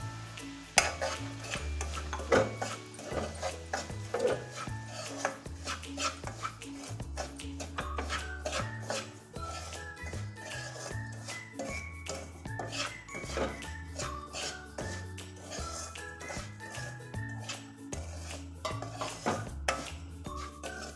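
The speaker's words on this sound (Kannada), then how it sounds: "ರವೆ ಚೆನ್ನಾಗಿ ಫ್ರೈ ಆಗಬೇಕು, ಬಣ್ಣ ಬದಲಾಗುತ್ತೆ" Semolina (rava) is stirred and roasted in a pan for pineapple kesari bath, a metal spoon scraping and tapping against the pan in a quiet, uneven rhythm, close and without speech.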